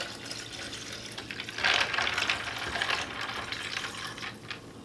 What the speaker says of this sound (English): add the green fruit punch from Hawaiian Punch